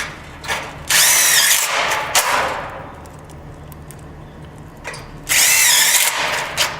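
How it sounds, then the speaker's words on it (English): Power drill driving self-tapping screws into steel track for an overhang framing job, with two loud sustained high-pitched whirring bursts separated by clanks and handling noise, close to the mic and free of talk. "Now we're using our self-tapping screws."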